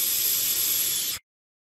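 Vapour hisses from a GO-MAX tube vape kit with the airflow fully open, a steady, close breathy rush lasting about a second before cutting off abruptly into silence.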